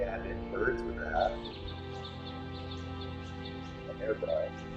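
Soft bird chirps and tweets, made with a hairbrush, drift over a steady sustained tonal bed, gentle and continuous throughout.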